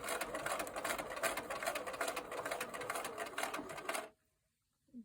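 Sewing machine stitching fabric at a slow, steady pace, its needle giving a rapid rhythmic chatter for about four seconds before stopping, close and clear with no speech.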